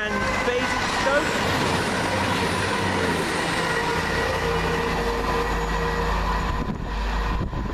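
A late-running passenger train from Manchester Piccadilly to Bournemouth passes at Adderley Park, a loud continuous rumble of wheels and engine close by throughout, with a rising low roar toward the end.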